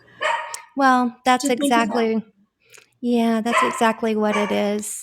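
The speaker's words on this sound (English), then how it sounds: "I apologize for my dog barking back here." A dog barks from the background during a conversation, its sharp yips mixed beneath continuous close speech.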